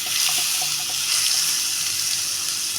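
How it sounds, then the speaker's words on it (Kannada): Tap water runs steadily while a mixer grinder jar is rinsed during cooking of a capsicum curry, a continuous close splashing hiss with no talk. "ಇದು ಜಾರ್ ತೊಳೆದು ಸ್ವಲ್ಪ ನೀರು ಹಾಕ್ತೀನಿ"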